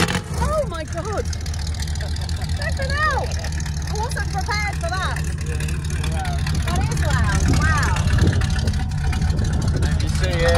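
Loud American car exhaust at a car show in Blackpool, UK, rumbling in a steady deep idle close by, with voices talking over it throughout.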